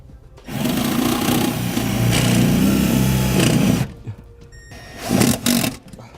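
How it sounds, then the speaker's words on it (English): A power drill drives self-tapping screws into a 2013 Jeep Wrangler, a loud close whirring run of about three seconds followed by two short bursts, with no voices. "We're going to go ahead and mount it now with the included self-tapping screws"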